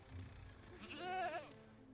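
One wavering, nasal goat bleat rises in the middle of a quiet stretch in the game Dreamfall Chapters, with a faint continuous background hum around it.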